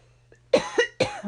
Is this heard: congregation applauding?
no